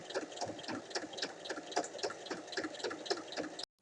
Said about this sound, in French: On ouvre et on vient faire une surpiqûre de chaque côté.